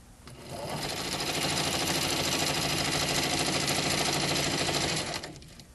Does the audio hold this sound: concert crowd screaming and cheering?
no